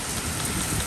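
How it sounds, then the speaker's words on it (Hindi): Heavy rain pours onto a terrace and blows indoors, making a steady, dense, close hiss with no break and no voices. "बहुत तेज बारिश है अंदर"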